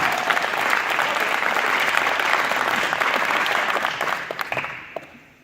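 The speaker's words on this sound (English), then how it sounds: "Everybody give a round of applause" Dense, sustained applause from a crowd at a military retirement ceremony, loud and even for several seconds before thinning into a few last claps and fading out.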